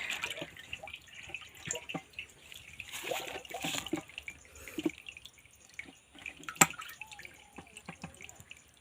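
Water from a 12 V solar-powered pump splashes and trickles in irregular drips and spatters outdoors, fairly quiet and close, with a few sharper splashes.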